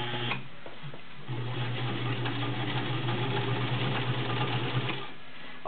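A vintage White Model 1665 heavy-duty sewing machine stitches through six layers of denim, a close, steady motor whir with fast rhythmic needle clatter running for about four seconds between brief pauses.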